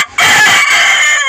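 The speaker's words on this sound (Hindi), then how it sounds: "देख सकते हैं मुर्गा" A rooster crows loudly and close, one sustained crow with a strained, raspy tone, starting after a brief quiet moment.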